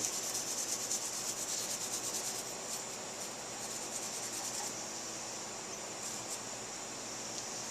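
An abrasive pad scuffs the front brake surface of a Kawasaki KX250 motocross bike, making a steady, close, raspy rubbing that runs continuously for several seconds, louder at first and then slightly softer.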